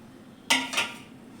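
Two quick metallic clinks of a utensil against a bowl as marinated chicken kebab pieces are mixed, close by and fairly soft, with quiet room tone around them.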